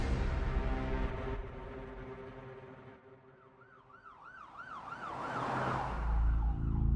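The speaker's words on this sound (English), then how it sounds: "the Nice police, Philippe Frison, pulled up to the hospital with the sirens on." A wailing emergency siren sweeps up and down in loud, repeated cycles as a police vehicle pulls up to a hospital in Nice, rising over low road rumble and growing louder toward the end.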